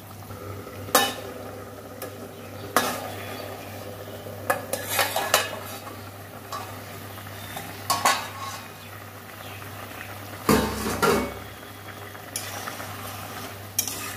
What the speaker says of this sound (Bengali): আমার সবজি রান্না হচ্ছে, মাছ আলু ভেন্ডি দিয়ে ঝোল